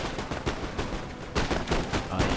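Musket volleys and artillery fire in a Napoleon Total War battle between Russian and French armies, a dense crackle of rapid overlapping shots with heavier bursts, continuous and moderately loud.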